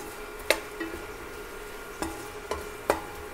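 A spoon scrapes and taps around a pan while turmeric, chili flakes and spices are mixed for beef fry, giving several short, crisp knocks spaced apart over a faint steady sizzle.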